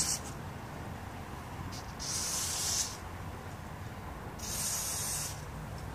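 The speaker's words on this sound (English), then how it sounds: "So let's just spray it here." An aerosol spray can sprays twice during a Neo-Geo 6-slot arcade cabinet restoration, each a loud, steady hiss lasting under a second, separated by a pause over a low background rumble.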